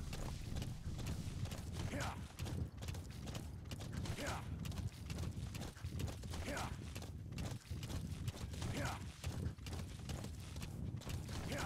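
A horse galloping along a road in Metal Gear Solid V: The Phantom Pain, its steady hoofbeats and creaking tack running continuously under game noise, with someone talking over it.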